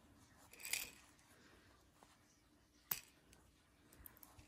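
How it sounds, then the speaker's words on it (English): Scissors snip off leftover yarn tails on a crocheted lion baby ring: two faint, close metallic snips spaced a couple of seconds apart in a quiet room. "Then you'll just snip off the excess."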